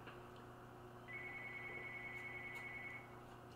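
A landline telephone rings once with a steady buzzing electronic trill lasting about two seconds, faint and set against a constant low hum.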